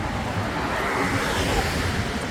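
Steady wind rushes and buffets the microphone outdoors during a cold walk, a loud continuous broadband roar with no break and no talking.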